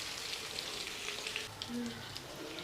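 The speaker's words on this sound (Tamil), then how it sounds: "இப்போ கத்திரிக்காய் நல்லா வதங்கிடுச்சு" Small brinjals sauté in a pan, making a faint, steady sizzle with light crackles and a soft stir or two, and no voices.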